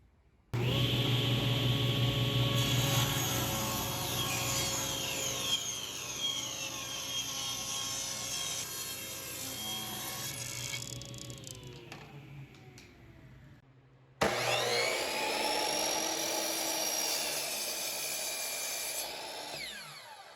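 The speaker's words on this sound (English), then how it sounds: "what we're gonna do now is cut the pieces for the outside frame and the shelving" A power saw cuts wooden pieces for the outer frame and shelving of a pool cue rack, a loud, steady whine with rising and falling pitch that pauses briefly and then starts again with a sharp surge.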